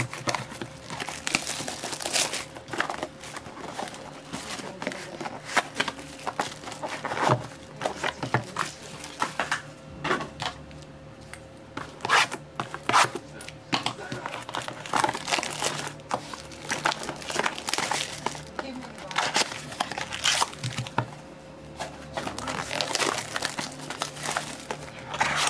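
Scissors snip and crinkle through plastic packaging of triple thread spools, a continuous close rustling and crackling with sharp cuts and crumpling bursts, no talking.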